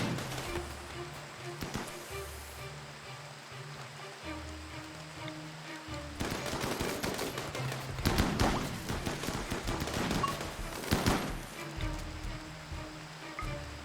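Bursts of gunfire from a RimWorld battle crackle in fast, uneven volleys, quieter at first, then denser and louder in the second half over a low game background.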